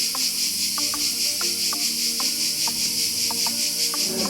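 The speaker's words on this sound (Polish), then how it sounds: "cykady, które właśnie w tych sosnach dają taki koncert" Cicadas sing in pine trees near Vlora, Albania, by the Karaburum peninsula. Their continuous high, buzzing chorus is loud and steady, with faint rhythmic clicks repeating underneath and no talking.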